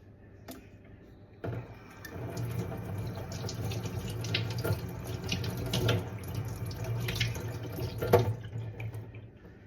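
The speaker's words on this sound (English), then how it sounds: "So now we're going to wash these 3 lemons." A kitchen tap runs steadily into a sink while three lemons are washed under it, a close, even water rush with small splashes and knocks, starting after a brief quiet moment.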